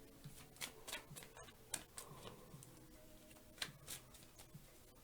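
Tarot cards being shuffled by hand, a quiet run of soft riffling flicks and taps spread irregularly through the clip, with no talking.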